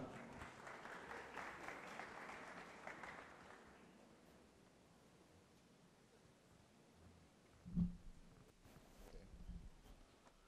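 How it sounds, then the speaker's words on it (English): University orientation audience applauding, a moderate wash of clapping for the first few seconds that dies away into quiet room noise, rustling and a thump or footsteps. "Ladies and gentlemen, give him a big round of applause."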